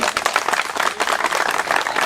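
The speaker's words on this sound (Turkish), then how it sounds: "Araba da alkışlayalım" Dense, steady clapping from a crowd at an outdoor village association picnic festival, a continuous burst of many hands applauding with no pauses throughout.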